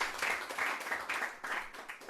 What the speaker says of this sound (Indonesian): Boleh berikan tepuk tangan lagi buat Tuhan Yesus